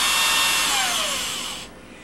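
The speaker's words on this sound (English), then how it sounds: "Just put your drill on the highest setting" A power drill runs on its highest setting, a loud, steady whirring whine for about a second and a half, its pitch sliding slightly downward before the motor cuts back to a quieter hum.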